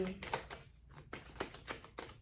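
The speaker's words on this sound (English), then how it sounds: "It's not the easiest deck to shuffle" A deck of tarot cards being shuffled up close: a run of crisp, rapid flicking and riffling clicks in uneven bursts.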